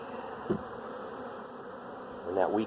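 Soft, steady insect buzzing with a faint hum throughout, rising briefly near the end as a bee seems to pass close by.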